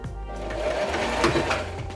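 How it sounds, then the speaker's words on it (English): A sewing machine runs a zigzag stitch through denim jeans, a steady close-up mechanical whir that lasts throughout with no voices. "what I'm going to be doing is I'm going to sew all of this together."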